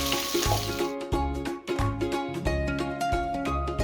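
Small onions, coarsely chopped, sautéing in a pan for a coconut-studded beef roast make a steady close sizzle with rhythmic stirring scrapes and clacks repeating about twice a second.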